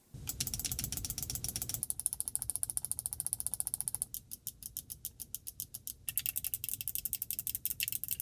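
Rapid, crisp clicking of GameSir G7 Pro controller buttons with clicky and optical switches, dozens of sharp presses in quick even bursts, close up and alone, shifting slightly in tone between sets.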